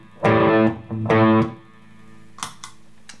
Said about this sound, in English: And we have distortion, it sounds pretty cool.